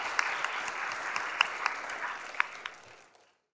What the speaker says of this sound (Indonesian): tepuk tangan lagi untuk kita